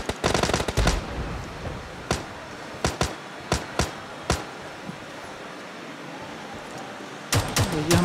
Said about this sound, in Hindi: अल्लाह मशीन गन चला रहा है बे।